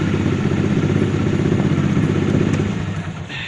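A Honda CB110 motorcycle engine runs steadily at close range during carburetor tuning, a loud continuous mid-pitched drone with mechanical clatter that eases off slightly near the end.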